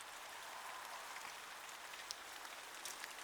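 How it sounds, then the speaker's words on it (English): Rain falls steadily in a garden with a soft, even hiss and a few faint drips close by. No one speaks. "Can you hear the rain?"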